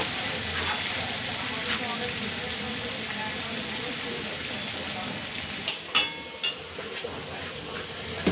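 Oil sizzles steadily in a pan while frying for a vegetarian soybean curry, a dense, continuous hiss close by, with a few sharp clinks of stirring toward the end.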